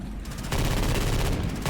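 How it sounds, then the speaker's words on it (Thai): A modded big gun fires rapid, rattling bursts in Left 4 Dead 2, the close, loud volley swelling to a dense continuous stream of shots. "ปืนบิ๊กกันกระบอกนี้มันค่อนข้างที่จะรัวนะฮะ"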